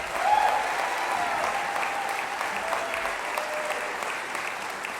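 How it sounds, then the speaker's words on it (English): Sustained audience applause after a middle school honor band concert, a dense, even roar of many hands clapping together for five seconds, steady and fairly loud with no voices on top. "Give these kids another round of applause."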